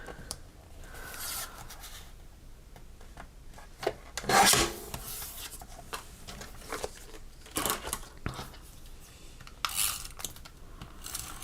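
The end of a piece of craft paper is trimmed, giving soft, scratchy rasping and rubbing strokes in irregular bursts, close by and fairly quiet.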